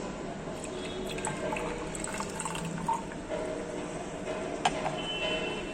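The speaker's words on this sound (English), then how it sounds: "Now what we'll do is, we'll be adding some amount of water into this." Water trickles and drips into a flask holding an Fe(acac)3 precipitate in a chemistry lab. The pouring is soft and steady, with small splashes and clinks and no talking.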